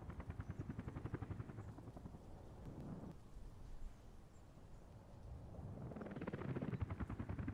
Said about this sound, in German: die Hubschrauber.